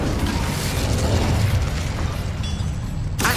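Incendio fire spell from Hogwarts Legacy, a loud roaring burst of flame with dense crackling and rumble that holds steady for about three seconds before a sharp cutoff, heard alone without talk.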